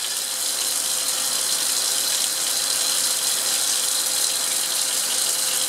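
Liquid wash poured all at once onto chromium trioxide in a laboratory beaker, a steady close hiss of running liquid that holds evenly for several seconds with no talk over it.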